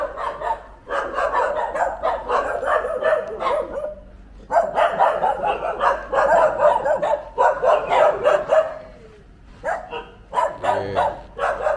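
Street dogs in Indonesia bark repeatedly and loudly at close range, overlapping bursts of sharp barks and yips in quick runs with brief gaps, several animals calling at once.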